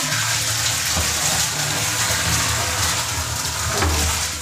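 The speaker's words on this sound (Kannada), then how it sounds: "ನಲ್ಲಿ ನೀರು ತುಂಬಲ್ವಾ, ನೀರು ತಗೊಂಡು ಬರ್ತಾ ಇದ್ದೀನಿ ಸದ್ಯಕ್ಕೆ" Tap water pours steadily into a container at home, a continuous close, rushing gush with no break and no talk.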